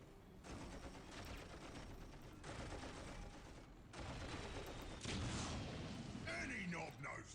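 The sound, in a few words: machine gun fire in video game Dawn of War Soulstorm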